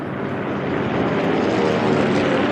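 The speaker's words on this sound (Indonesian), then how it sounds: "Ada pesawat. Pesawat itu mendarat." A cartoon propeller airplane comes in to land, its engine drone a steady, loud, broad roar that swells slightly as it draws closer, with no voices over it.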